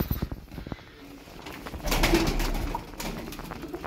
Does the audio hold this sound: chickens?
no